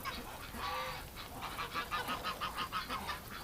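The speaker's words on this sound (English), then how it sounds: "Just a filthy duck." A domestic duck out in winter gives a run of repeated honking quacks, fairly faint and steady, with no voices over it.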